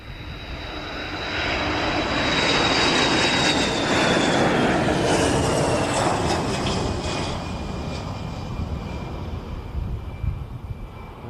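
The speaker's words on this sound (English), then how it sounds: "This is a C-135FR. That's a lovely low overshoot." A Boeing C-135FR tanker aircraft sweeps past in a low overshoot at an air show, its jet engine roar building to a loud, sustained rush with a falling whine, then easing off as it moves away.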